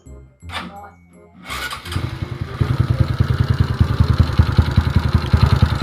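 A Honda Wave 125i motorcycle engine cranks and catches, then settles into a steady, rhythmic idle that grows louder and stays close.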